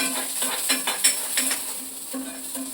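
Onions frying in a pan with a soft sizzle and repeated light scraping strokes of a spoon, close and quiet with no talk.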